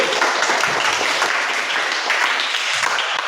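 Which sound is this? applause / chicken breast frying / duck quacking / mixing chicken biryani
applause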